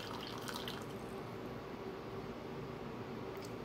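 Brewed Turkish coffee with its grounds pours steadily into a cup, a soft continuous liquid trickle and splash heard close up with no talking.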